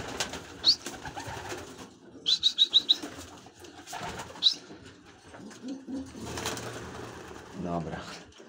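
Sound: homing pigeons cooing in a loft

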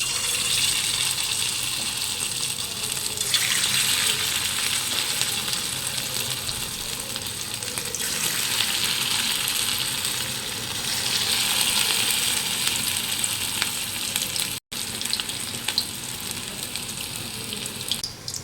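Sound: chicken pakoras frying in hot oil

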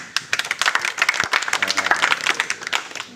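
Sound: audience applause

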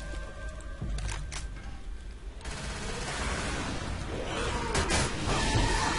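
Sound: gunfire from Left 4 Dead 2 video game

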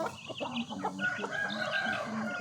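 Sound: young chickens clucking

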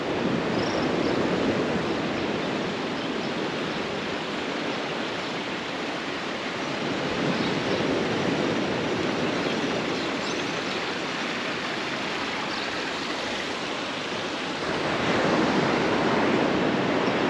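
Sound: sea waves at the shore of Canto do Poá beach

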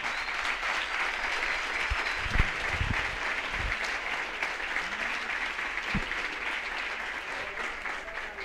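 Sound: audience applause

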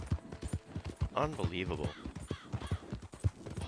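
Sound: horses' hooves in the video game Red Dead Redemption

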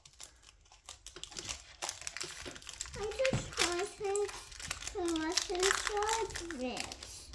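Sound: tearing open a packet of Pokémon trading cards

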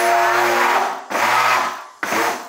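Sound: blender mixing batter

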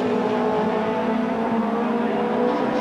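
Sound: BMW and Mitsubishi touring cars racing at Donington Park

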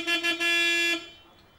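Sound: car horn honking

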